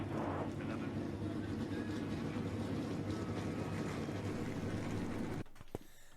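Field of stock race cars idling on the starting grid at Michigan before a Budweiser All Pro Series race, a dense steady low engine rumble filling the scene before it drops off abruptly near the end.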